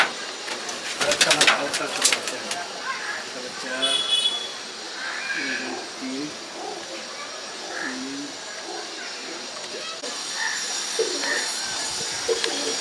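Pigeons kept in a loft coo softly and repeatedly in low, throaty phrases, close by, with a few sharper bird sounds and a faint hiss in the background.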